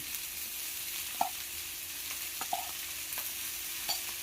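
Soft scraping of a utensil stirring peanut chilli powder in a pan over a quiet sizzle, with a few light clinks spaced out.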